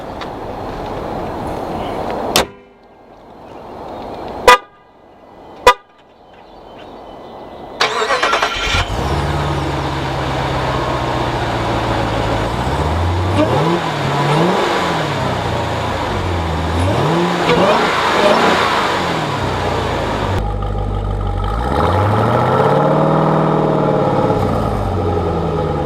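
A 707-horsepower supercharged 2018 Jeep Grand Cherokee Trackhawk engine cranks and fires with sharp bursts, then revs loudly and repeatedly, its pitch rising and falling in strong sweeps, close and continuous, through a restricted exhaust.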